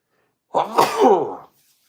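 A single sharp sneeze, close and loud, bursting out after a moment of silence and trailing off quickly.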